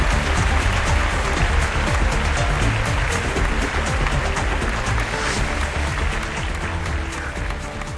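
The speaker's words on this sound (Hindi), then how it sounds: "जोरदार तालियों से स्वागत कीजिए सर।" Loud, sustained applause from a large audience welcomes a government minister onto the stage at a real estate awards ceremony, a dense steady roar of clapping that holds for the whole stretch and eases slightly toward the end.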